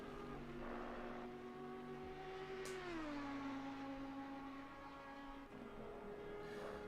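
GT race cars in the Assetto Corsa Competizione sim at the Nürburgring give off a steady, tonal engine whine that drops in pitch as one shifts down, then holds, sounding somewhat distant and without talk.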